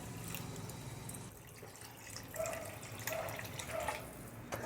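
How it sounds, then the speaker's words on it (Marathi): Water is poured from a bowl into soaked rice in a kadai, a soft continuous trickle and splash up close, with a few brief clinks. "तर त्याच्यामध्ये ना पाणी टाकायचं आहे."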